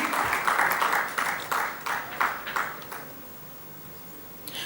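An audience at a business convention gives a short round of applause, a burst of clapping that quickly thins out and fades to quiet room tone.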